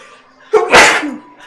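A single close, sharp sneeze, with a quick intake of breath just before the burst and a short fading tail.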